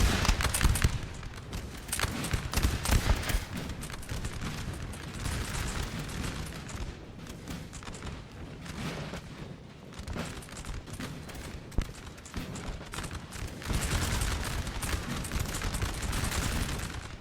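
Steady musket volley fire in a Napoleonic-era battle from Napoleon: Total War, a dense, continuous crackle of massed gunshots with occasional heavier booms, loud and unbroken throughout.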